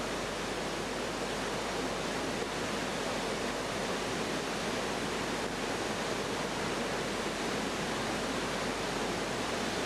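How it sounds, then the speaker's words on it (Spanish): The Iguazú River waterfalls roar as a dense, unbroken wash of rushing water, loud and steady throughout, with no voices over it. "la espectacularidad escénica que brindan las cataratas del río Iguazú"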